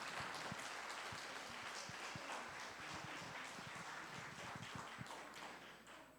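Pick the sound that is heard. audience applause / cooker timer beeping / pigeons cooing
audience applause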